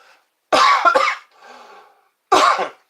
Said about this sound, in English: Wow, that makes me cough.